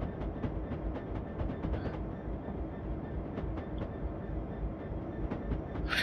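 A Class 66 diesel locomotive hauling Dagenham car wagons on the North London and Goblin line in Train Simulator 2018 rumbles along steadily, wheels clicking rhythmically over rail joints, continuous and fairly loud with no voices.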